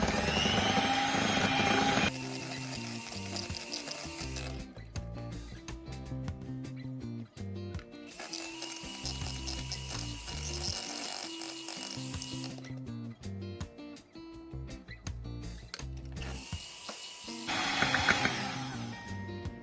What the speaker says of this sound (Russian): Продолжаем взбивать на самой маленькой скорости.